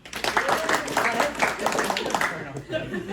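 An audience gives a round of applause at an event for comic creators, steady dense clapping throughout with an announcer's voice speaking over it.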